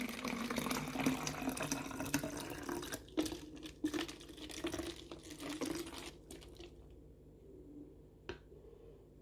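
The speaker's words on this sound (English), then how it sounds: "all we're going to do is pour that straight into the water bottle" Garlic water is poured into a water bottle, a quiet, close trickle with faint gurgles that thins out and stops near the end.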